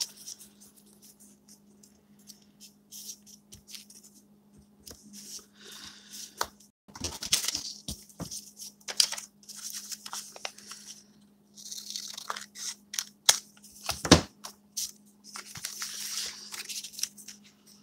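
Scissors snipping paper for a handmade winter-themed craft embellishment, with irregular crisp cuts and rustling paper spread across the clip, plus a steady low hum underneath and a sharp snip near the end.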